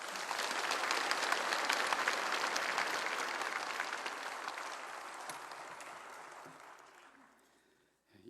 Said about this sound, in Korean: 뜨거운 박수로 맞이해 주시기를 바랍니다